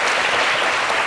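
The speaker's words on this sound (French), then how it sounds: "Vous allez reprendre encore quelques applaudissements." An audience at a ceremony claps loudly and densely in one short, unbroken burst.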